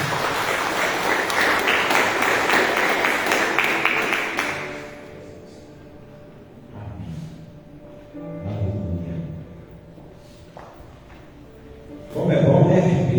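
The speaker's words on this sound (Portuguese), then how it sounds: "E as palmas ao nosso Senhor." A church congregation claps together for a few seconds, loud and dense, then stops, leaving a quieter room with scattered noises and voices before a brief burst of sound returns.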